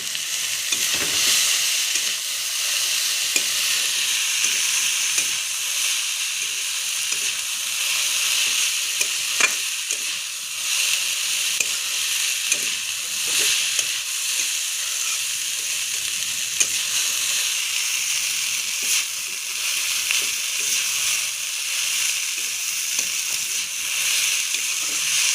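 Chowmein noodles sizzle and fry in a pan, a loud, constant hiss with occasional stirring scrapes and clicks close by, no talking.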